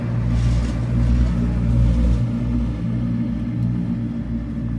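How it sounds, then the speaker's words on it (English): A deep, steady engine rumble with a churning low drone from an amphibious duck boat's propeller in Boston, loud and continuous, no talking. "That new noise you hear is the propeller."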